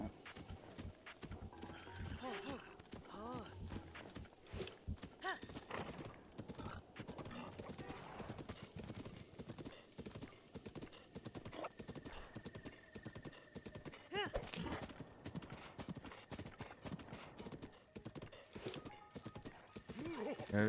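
A horse gallops with steady clip-clop hoofbeats and whinnies in the video game Breath of the Wild, fairly close and continuous, with a player's voice talking over the action.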